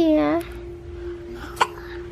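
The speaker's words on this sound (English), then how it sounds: "Hiccup." A small child gives a short hiccup-like vocal squeak at the start, followed by quiet household background and a brief sharp sound near the end; no clear talk.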